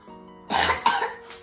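A child sick with flu and a respiratory infection coughs twice in quick succession, a close, harsh burst followed by a shorter second cough.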